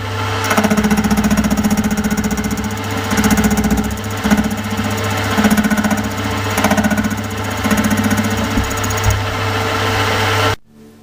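A gear-cutting machine cuts the teeth of a 17-tooth gear, a loud steady mechanical grind with a low hum and repeated rhythmic pulses of cutting load, running continuously until it stops abruptly near the end.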